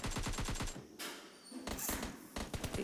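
AKM and M4 rifles fire in a mobile shooting game, with rapid bursts of automatic gunfire near and loud, broken by brief pauses before more volleys.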